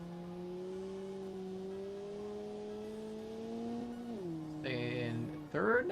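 A hot hatch car engine in a video game, held in third gear with a steady, slowly rising droning tone, then a quick shift and a sharper rev near the end, close and moderately quiet.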